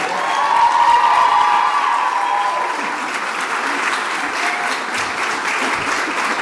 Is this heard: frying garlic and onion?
no